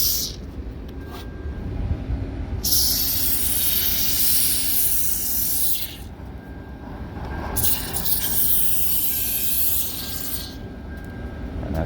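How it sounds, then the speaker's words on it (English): Lubricant sprayed from a shaken aerosol can onto a squeaky car window, two long loud hissing bursts of several seconds each, separated by a short pause, close up over faint background noise. "you shake up your can and you just go ahead and spray"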